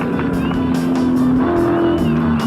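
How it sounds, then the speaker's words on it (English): A touring race car at the 1986 Bathurst 1000 roars loudly past on the Mount Panorama circuit, its engine note holding steady and shifting pitch as it goes by, with faint commentary underneath. "Gricey coming across the top, out of Castrol Curve, down to the S's. Through Bridgestone Corner."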